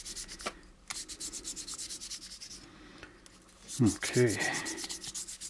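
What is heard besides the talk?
fine sandpaper sanding plastic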